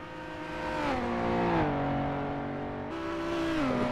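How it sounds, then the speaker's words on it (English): Race car engines of a 5-litre Jaguar and an Aston accelerate out of a hairpin, a sustained rising and falling growl with audible gear-change drops, fairly distant and loud, no voices. "So funny hearing both engines as the cars power out of the hairpin."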